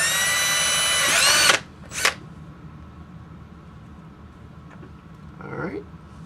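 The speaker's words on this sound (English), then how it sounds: "So I'm going to drill a little hole" A power drill whines loudly as it bores a small hole, then cuts off; two shorter bursts follow, the last one fainter.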